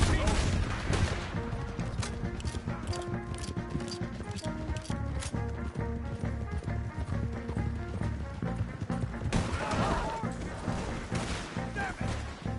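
Red Dead Redemption 2 gunfights crackle with steady, overlapping shots throughout, a fusillade of rifle and pistol fire under music and shouted voices.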